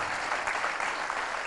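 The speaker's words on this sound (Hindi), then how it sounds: "एक बार डॉक्टर साहब के लिए ताली बजा दीजिए" An audience at a Punjab mushaira poetry gathering in Patiala claps for the poet in sustained, even applause, dense and close throughout.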